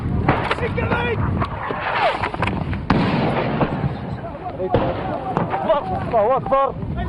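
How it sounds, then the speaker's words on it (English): Sharp booming blasts and cracks of incoming rounds on a Libyan frontline ring out amid chaotic background noise and voices, several impacts landing about 50 yards away. "3 explosions 50 yards away."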